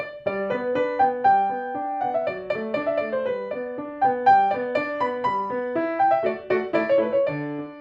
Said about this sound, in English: Clementi sonatinas, Opus 36 in particular.